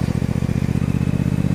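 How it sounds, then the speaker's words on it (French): A motorcycle being ridden, its engine giving a steady, close, rhythmic throbbing drone with a regular pulsing beat and no voices over it. "Pourquoi j'y suis allé en moto?"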